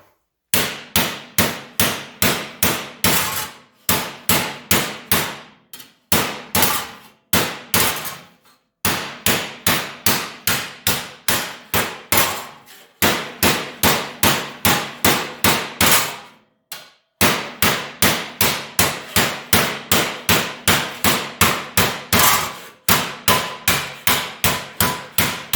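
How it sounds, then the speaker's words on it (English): Rapid hammer blows on metal held over a piece of pipe, in bursts of several strikes each, loud and close, with brief pauses between the runs. "hammer down into it."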